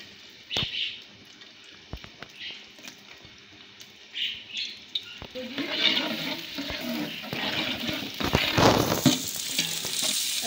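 About 1.5 kg of finely chopped onions frying in a kilo of Dalda oil while being stirred, with sporadic clanks and stirring at first, then a building, steady sizzle that grows louder through the second half.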